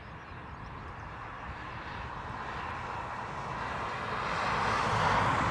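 Aircraft engines roar at Dublin Airport as a plane passes, a steady broad rumble that slowly grows louder toward the end, with no voices.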